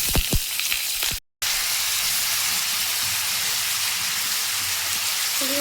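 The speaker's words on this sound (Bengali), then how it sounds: "তেল গরম হয়ে গিয়েছে, এখন আমি এর মধ্যে চিকেনগুলোকে দিয়ে দেবো।" Chicken pieces hit hot white oil in a wok, setting off a loud, continuous sizzle close by, with a few clatters at the start and one very short gap in the sound.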